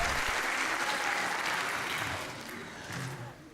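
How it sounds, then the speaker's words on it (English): A science show audience breaks into loud, sustained applause, a dense wash of clapping that holds steady and then tapers slightly toward the end. "big applause"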